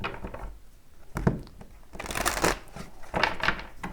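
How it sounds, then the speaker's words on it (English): A tarot deck being shuffled by hand: repeated crisp riffling and card-slapping bursts, close and fairly loud, coming in uneven waves over about four seconds. "let's start shuffling"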